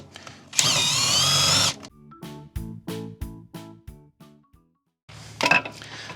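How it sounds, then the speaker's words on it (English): A power drill whines steadily for about a second while pre-drilling into thick steel during an EZGO golf cart lithium battery conversion, followed by a series of clinking, knocking handling sounds and a short final burst of drilling. "let me pre-drill really quick"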